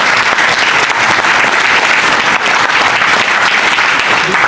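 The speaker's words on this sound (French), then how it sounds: "On veut l'applaudir et voilà." Loud, dense applause from an assembly at an auto-cross club's general meeting honours a long-serving elected official, a continuous wall of clapping at constant strength from start to end.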